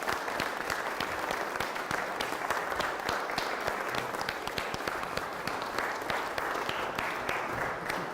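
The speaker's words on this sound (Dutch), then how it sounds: "Onder een luid applaus, dames en heren." Wedding guests applaud the newlyweds David and Jacqueline, a sustained burst of crowd clapping that stays loud and even for about eight seconds.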